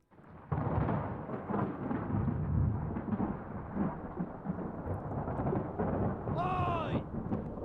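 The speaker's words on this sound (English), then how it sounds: "Storm's coming!" A thunderstorm at sea in the game Return of the Obra Dinn rolls in as a low, continuous roar of wind and rumbling thunder, with a short high-pitched wavering call near the end.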